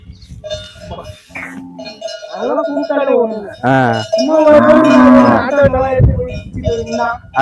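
A herd of Umbalachery cattle low and moo near by, with cowbells clanking and ringing among them in a rural Thanjavur setting, several overlapping calls of varying length.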